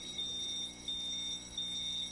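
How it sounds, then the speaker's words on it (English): Smoke or fire alarm sounding in an indoor studio, a high piercing electronic tone in three long repeated beeps with short gaps, steady and fairly prominent, no speech over it. "we're just going to have to do the show with the fire alarm going"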